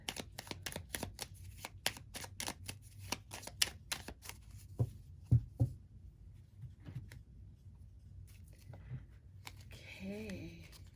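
Druid Wisdom tarot cards are shuffled in a burst of quick, crisp riffling snaps, then quieter handling and soft card movements. A voice speaks faintly near the end.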